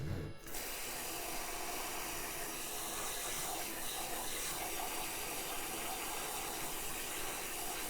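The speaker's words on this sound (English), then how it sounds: "This is to stop cooking and also to rinse the lettuce." A tap runs steadily into a sink full of lettuce, a constant rushing, gushing flow close by with no talk.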